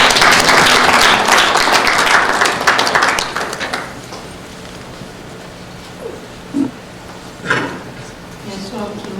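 An audience applauds at a memorial gathering in Toronto for the late Congolese president Étienne Tshisekedi, dense clapping filling the first four seconds before thinning into a few scattered claps and quiet voices.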